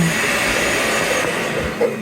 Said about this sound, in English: That vacuum's just going and going, isn't it?